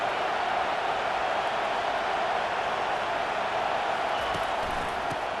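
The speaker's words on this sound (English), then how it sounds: "Decibels rising as the crowd gets behind this defense on third down." A football stadium crowd at a Ball State vs Kansas State game roars steadily as it gets behind the defense on third down, a dense, continuous wall of distant cheering.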